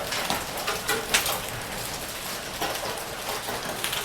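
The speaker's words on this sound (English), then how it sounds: "There's some potential ping pong and golf ball size hail right now in Leander area." Golf ball and ping pong size hail falls in the Leander area, a dense, steady patter of impacts on surfaces with a few louder hits, continuous and fairly close, no voices.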